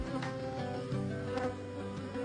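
Calm bees at a beehive make a dense, continuous buzz that holds steady at close range, with no talking.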